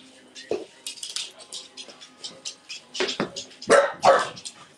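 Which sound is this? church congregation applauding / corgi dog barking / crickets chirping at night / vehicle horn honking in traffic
corgi dog barking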